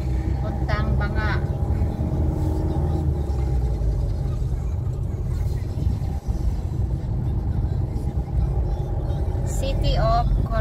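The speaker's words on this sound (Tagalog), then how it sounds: "matraffic na dito pag ganitong oras sa Coronadal" Road traffic in Coronadal City, South Cotabato, a continuous low rumble of passing vehicles heard from inside a moving vehicle, with a few horn-like tones and people talking.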